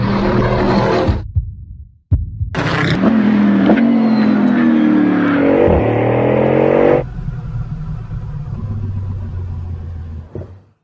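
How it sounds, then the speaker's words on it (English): A 2021 Bugatti Bolide hypercar accelerating hard on the Le Mans circuit: loud engine roars with rising pitch through several gear changes, a brief cut near two seconds, then a lower, fading rumble. "This car accelerates like nothing else I've ever experienced"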